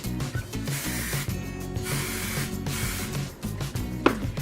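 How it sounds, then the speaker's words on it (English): Bursts of hissing hairspray from an aerosol can over a steady background of music, with short pauses between sprays and a small knock near the end. "so I'm going to spray this"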